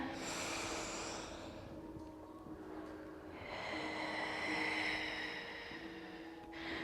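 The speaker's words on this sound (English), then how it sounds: "One more deep breath." Slow, deep breaths during a Pilates class for spine health, each a long airy inhale or exhale with a pause between them, close and fairly quiet over a soft steady background hum.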